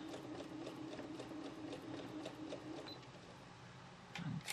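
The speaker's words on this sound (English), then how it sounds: "And let's sew these together" A sewing machine stitches quilt squares together with a quarter-inch seam, its quiet, steady mechanical whirr running low and constant, with a brief louder bump near the end.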